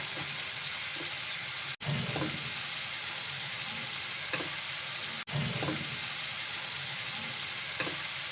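Tandoori chicken drumsticks sizzle steadily in masala in a pan, a continuous close frying hiss broken by two brief stirring or turning noises, with no talking.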